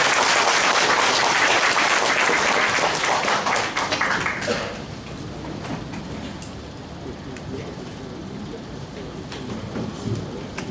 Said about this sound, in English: Give him a big round of applause again.